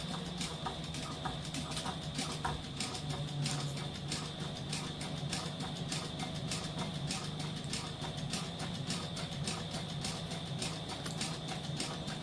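A sewing machine back stitching while making a bag, running at a steady pace with a fast, regular mechanical clatter and a constant whirring hum, close and alone.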